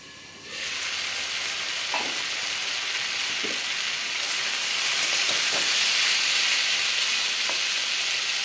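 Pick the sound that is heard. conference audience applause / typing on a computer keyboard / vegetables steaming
vegetables steaming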